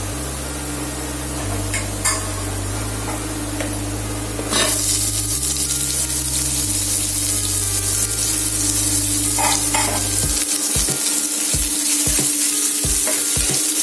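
One large, finely chopped onion sautés in a pan until golden brown, with a steady sizzle while a spoon clatters and scrapes against the pan, growing busier toward the end.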